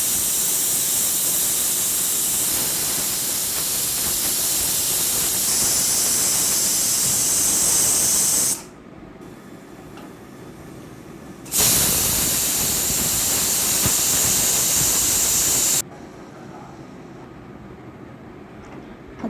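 Mutton cooking in a pressure cooker lets out loud, steady steam whistles, one long blast for about eight seconds and another lasting roughly four, with quieter hissing in the pauses.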